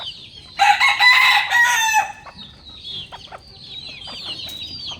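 Egg-laying hens in a backyard coop. A brief crow-like squawk is followed by a series of soft, scattered clucks at close range.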